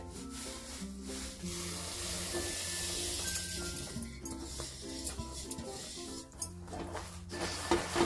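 A spoon stirs sesame seeds into hot jaggery syrup for til ladoo, giving quiet scraping and sticky stirring with occasional metallic clinks against the pan and a soft sizzle.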